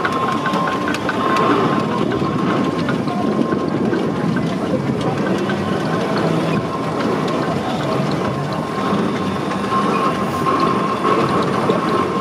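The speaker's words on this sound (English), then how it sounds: "So the engine just going past there in the colours of Whitby Urban District Council" A steam engine in the livery of Whitby Urban District Council rolls past at a steam rally, a loud continuous mechanical rumble with a steady whine on top, holding level throughout with no break.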